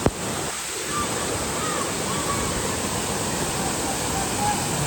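Heavy rain and rushing water near Kileshwar Mahadev temple among the hills make a dense, unbroken roar, loud and close, with no break across the stretch.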